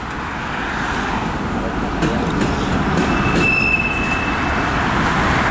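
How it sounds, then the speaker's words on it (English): A loaded coal freight train rumbles past steadily nearby on a curve, with a thin metallic wheel squeal rising briefly partway through; a voice is faintly present underneath. "That coal train is still going."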